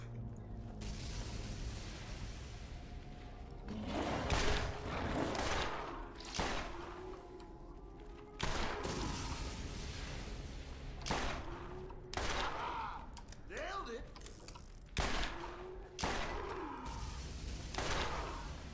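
Gunfire from a weapon in the Borderlands video game crackles in repeated sharp bursts, about a dozen distinct shots spaced irregularly, with a low background hum and faint talk between them.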